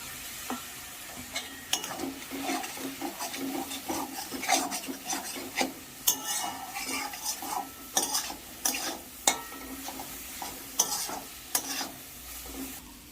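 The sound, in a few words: stirring and sautéing spice paste with water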